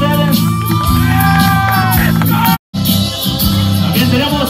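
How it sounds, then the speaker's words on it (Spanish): A loud crowd at a quinceañera party cheers and shouts with clapping mixed in, a dense, continuous roar that cuts out for a moment before surging back. "Ese aplauso para Francisco y Mercedes"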